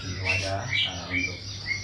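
A young murai, the magpie robin songbird, gives several short bright chirps and whistles in a quick irregular run, fairly close but soft, over a low background hum.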